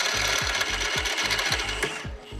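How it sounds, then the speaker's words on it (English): A drill bores holes through the body of a BMW M4 during a half-cage fitting, making a continuous close mechanical whir with regular low thuds about every half second. "We're going to take it out, drill the holes, and then everything will be ready for fitting."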